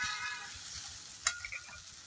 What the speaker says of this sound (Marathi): कांदा आणि टोमॅटो चांगला भाजलेला आहे